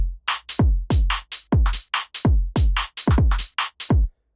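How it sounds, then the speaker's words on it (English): UK garage two-step drum pattern with punchy kicks and rim shots between the off notes, giving a swung, skipping groove of short, loud, dry hits with no other instruments. "The garage rhythm really is made in the rim shots in between the off notes."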